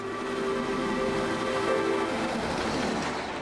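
Steam train of the Fellsman excursion running through the British countryside, a steady, loud rumble and rattle of the locomotive and carriages rolling along without pause.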